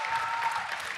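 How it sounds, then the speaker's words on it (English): Audience clapping at a show at the Ark Encounter answers center makes a brief dense burst of applause, steady and fairly loud throughout. "They're clapping you again."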